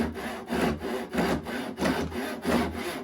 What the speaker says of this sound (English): Crosscut saw. Make sure this is clamped tight. Start our cut.